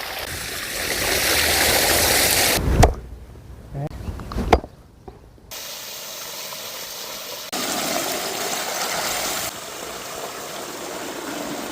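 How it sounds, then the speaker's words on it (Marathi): Water rushes steadily through a village stream beside farm fields, a continuous broadband flow that drops out briefly in the middle, with some voices faintly present. "इथं पाणी वाहिले वड्यातून चांगला चांगला"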